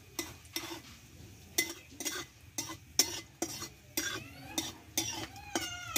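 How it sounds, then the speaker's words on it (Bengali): Dried red chilli and black cumin fry in oil in a pan, with a steady soft sizzle broken by repeated close, sharp scrapes and clinks of a stirring spoon. "কালো জিরে লঙ্কাটা আমি ভালোভাবে একটু ভেজে নেব"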